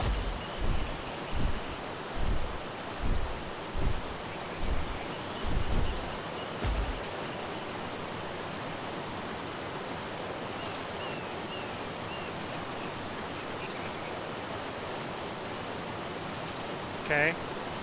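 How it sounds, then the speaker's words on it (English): A continuous waterfall roar from the video game ARK, an even broadband wash of falling water that fills the whole stretch, with a series of soft thumps early on and a brief faint chirp near the end. "the waterfall sound gets on my nerves after a while"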